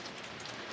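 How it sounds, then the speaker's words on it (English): Steady rain falls outdoors on a muddy homestead building site where a chicken coop is being framed, a dense even hiss of drops close by with no voices. "It's raining and miserable, muddy and everything else"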